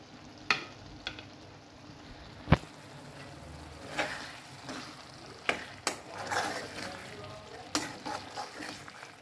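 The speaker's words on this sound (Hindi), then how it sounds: "अब जो मेरा एग है फ्राई, ये मैं इसमें ऐड कर दूंगी" Fried eggs dropped into hot, oil-separated curry gravy in a pan and stirred, with faint frying under a series of sharp clinks and knocks from the spoon against the pan, some loud and some soft.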